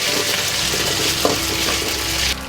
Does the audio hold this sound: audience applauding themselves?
no